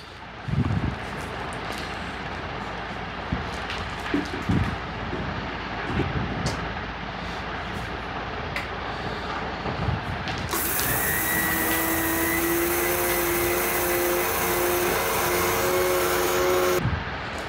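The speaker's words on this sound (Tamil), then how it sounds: "மிக்ஸி ஜாரில் நம்ம வறுத்து வச்சுருக்க அரிசியையும் பெருஞ்சீரகத்தையும் ஒன்றா போட்டு" Roasted rice and fennel seeds are ground in a mixer grinder jar. A steady motor whir starts about midway and continues to near the end, after earlier quieter kitchen clatter.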